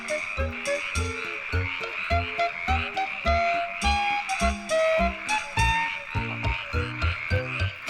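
Male fire-bellied toads and a male black-spotted pond frog call together at night, a loud, close chorus of rapid repeated croaks and pulsing notes with a steady rhythm, no voices.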